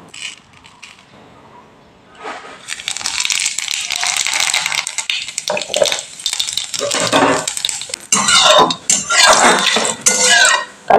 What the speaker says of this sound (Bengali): এবার আমি তেলের মধ্যে কালো জিরে ফোড়ন দিয়ে দেবো